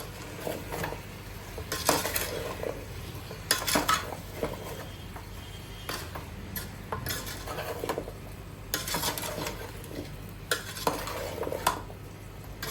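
Turmeric stirred into pumpkin curry in a pan, rhythmic bursts of metal spoon scraping and clinking against the pan over a faint sizzle, close and distinct, with no one talking.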